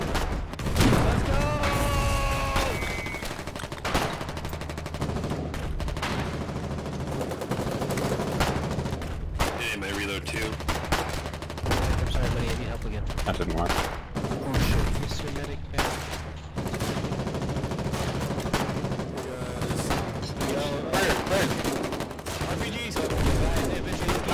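Machine gun fire and other gunshots fill a frontline battle in the video game Foxhole, with bursts of shooting and explosions running continuously under shouted voices throughout.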